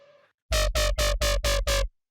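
Dry synth bass patch for a drum and bass track, playing six short, evenly spaced loud notes with full low end and bright harmonics, each cut off sharply, after a faint lead-in and then silence.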